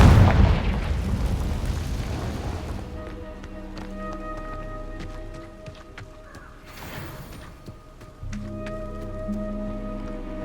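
Confringo blasting spell from Hogwarts Legacy: a loud broadband burst at the start that decays into a rumbling tail, followed by quieter magical tones and a second, softer whoosh partway through.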